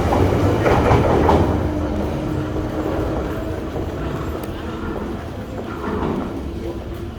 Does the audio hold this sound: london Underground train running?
yes